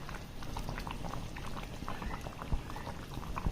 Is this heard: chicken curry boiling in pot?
yes